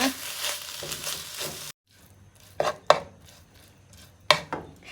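Tuna filling stir-fried in a pan for tuna buns, a brief sizzle then a sudden drop to near quiet, followed by a few sharp spatula knocks and scrapes against the pan.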